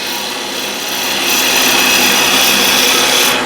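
A skew chisel works against spinning wood on a lathe without riding the bevel, giving a steady, harsh scraping hiss that swells in loudness partway through and holds close and continuous, with no talking.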